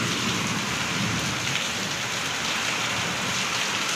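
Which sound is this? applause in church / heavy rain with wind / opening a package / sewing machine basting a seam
heavy rain with wind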